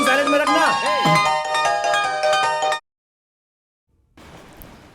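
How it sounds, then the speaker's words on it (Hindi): A bright electronic ringtone melody plays loudly for about three seconds, then stops; after a short silence, a soft hiss follows. "सर का फोन बज रहा है"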